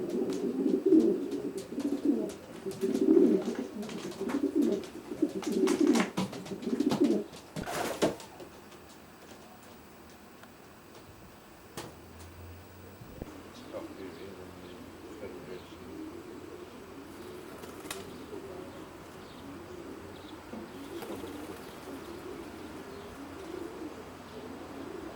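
Racing pigeon cocks coo in a widowhood loft housing about forty birds, a rhythmic throaty burbling that is loud for the first eight seconds, then continues softer and more distant amid a few clicks and shuffles.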